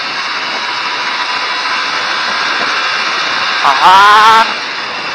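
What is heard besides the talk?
Yamaha Vixion motorcycle engine revving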